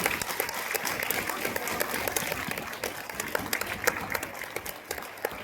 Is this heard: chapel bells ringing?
no